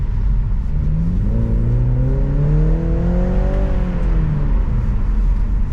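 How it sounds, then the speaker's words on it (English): A 2022 BMW Z4 sDrive 2.0-litre convertible in sport mode revs up through the exhaust, its note climbing then easing back, over a steady roar of road and wind noise. "The majority of the sound you can actually hear comes from the exhaust"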